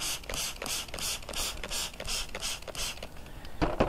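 A handheld spray bottle is pumped repeatedly to water potting soil, giving a steady series of short, close, crisp spritzes at an even rhythm.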